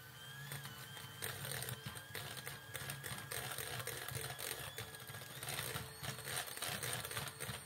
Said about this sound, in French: je vais fouetter jusqu'à l'introduire bien avant d'introduire le second et ainsi de suite